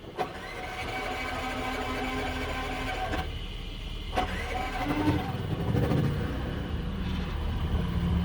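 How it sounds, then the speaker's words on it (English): A steady mechanical engine drone from a generator powering a heat gun runs throughout, loud and close, with a brief dip and a few clanks partway through. "using the generator to power the heat gun"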